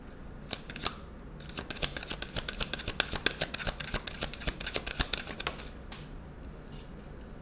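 Tarot cards are shuffled by hand before another card is drawn, a rapid run of crisp riffling flicks close by with no talking.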